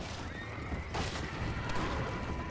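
A horse in the Red Dead Redemption video game gives a loud, rising whinny, with hoof clip-clops and steady background ambience, and there is no talking.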